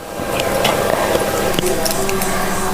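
A tempering of mustard seeds and garlic sizzles loudly and evenly in hot coconut oil, a close, dense crackle that fills the short stretch.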